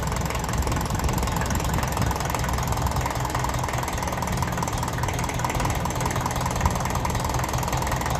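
A 1954 Ferguson TEF 20 diesel tractor engine idles close by with a loud, continuous knocking chug that barely changes across the stretch, with no voices over it.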